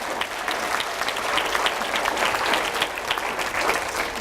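Audience clapping continuously in a hall, a steady, moderately loud burst of applause with no speech over it.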